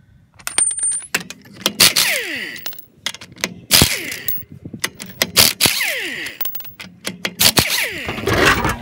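A Husky power tool loosens 17mm lug nuts on a Mercedes W124 wheel in loud, sharp bursts of whirring and rattling, separated by clicks and short pauses, with clanks of metal parts close by.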